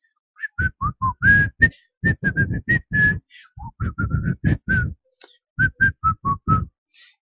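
A man whistles a bright, lively tune in quick separate notes and short phrases, clear and close, with no other sounds around it.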